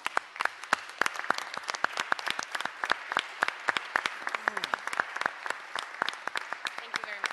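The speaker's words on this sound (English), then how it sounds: "if they can stand up so we can give them a hand of applause." A round of applause from a small meeting audience at a public works board session, sparse individual claps ringing out in an uneven patter that continues steadily at moderate volume in a room.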